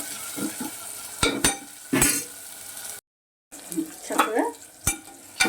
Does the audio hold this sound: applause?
no